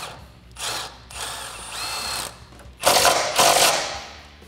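A stock 10 mm bolt fastens a brake line bracket on a Jeep Wrangler JK during a suspension lift, heard as several short bursts of a power driver or ratchet, the last two louder and closer, with no talking.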